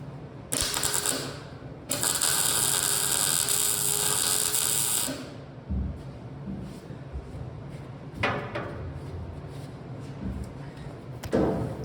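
Tack welding steel tubing for the roll cage of an M715: a harsh, loud crackling buzz of a few seconds, a break, then a longer burst lasting about three seconds, followed by quieter clanks and brief crackles of shop noise.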